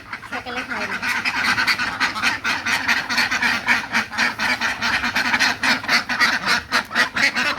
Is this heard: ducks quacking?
yes